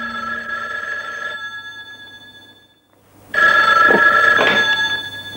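A telephone rings in a French phone-themed comedy sketch: an electronic ring burst, a short pause of silence, then a louder second ringing burst, with no voices.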